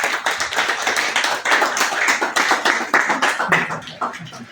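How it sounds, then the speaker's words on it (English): Steady applause from a crowd, many hands clapping continuously with dense overlapping claps throughout. "let's clap for him"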